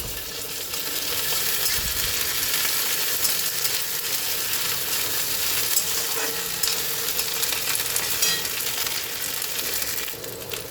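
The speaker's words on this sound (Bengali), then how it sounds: "আমি আর একবার নেড়ে নেবো।" Onion with a ground paste of ginger, garlic, green chili and cumin fries in a pan and gets stirred, giving a steady loud sizzle with occasional scrapes and clinks of the spatula throughout.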